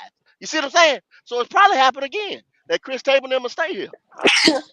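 A single sharp sneeze bursts out right at the end, after someone talks steadily through most of the clip.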